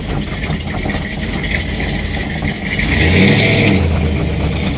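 A 1964 Chevy II drives with worn, unhappy U-joints under a steady loud engine and road drone that swells midway as it accelerates, close inside the car.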